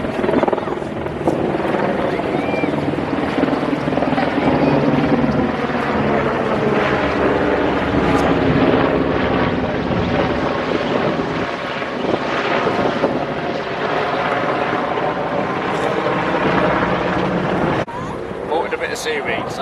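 A helicopter lifting off from the aircraft carrier HMS Queen Elizabeth in Portsmouth Harbour gives a loud, continuous rotor and engine roar that holds steady for most of the stretch, with someone talking over it.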